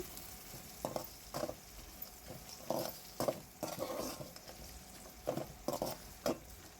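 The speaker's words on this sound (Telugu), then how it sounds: "ఇలా కలయబెడుతూ వేయించుకోండి" Onions and puffed rice fry in a pan with a steady sizzle, while a spoon scrapes through them in a rhythmic series of stirring strokes, close and fairly soft.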